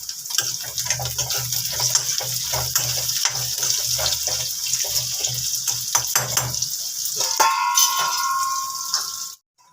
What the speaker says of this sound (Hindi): जो घुइयाँ हम फ्राई कर रहे हैं इसमें भी नमक अच्छे से मिक्स हो जाएगा